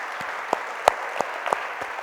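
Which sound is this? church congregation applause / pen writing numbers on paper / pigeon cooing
church congregation applause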